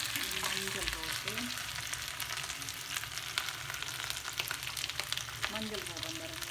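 Potatoes with onions and turmeric sizzle and crackle steadily in a hot pan, with faint stirring scrapes mixed in, close and continuous throughout.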